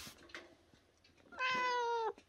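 A black-and-white spotted house cat gives one clear, drawn-out meow close by, following a few softer murmurs and small noises in a quiet indoor room.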